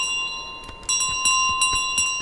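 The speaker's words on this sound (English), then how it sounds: "Another bell to be added to the collection." A bell rings in Untitled Goose Game, a bright metallic ring with sustained tones, struck again several times in quick, irregular succession, loud and close with no talk.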